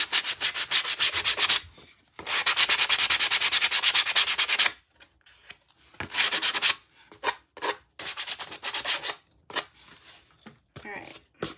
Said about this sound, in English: I sand down these corners here so that no one's gonna get snagged on it